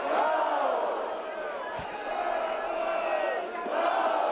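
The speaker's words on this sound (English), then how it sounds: "You can hear this crowd ready to erupt." Basketball crowd in the East Carolina arena rumbling with swelling chants and shouts during a Charlotte game, a loud, sustained roar with a sharp thud partway through.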